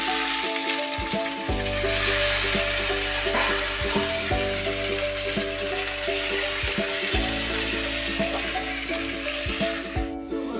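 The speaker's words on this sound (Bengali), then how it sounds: "এবার আমি রসুন ভাজা হয়ে গেছে, শাপলাগুলো আমি দিয়ে দিচ্ছি" Water lily stems hit garlic frying in oil, producing a loud, sustained sizzle with occasional stirring scrapes over a steady tonal hum in the background.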